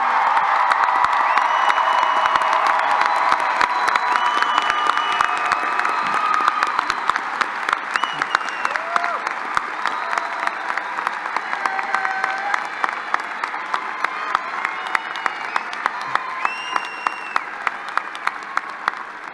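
Large university commencement crowd applauds and cheers graduates, a broad wash of clapping with scattered whoops and shouts, steady throughout and slowly thinning.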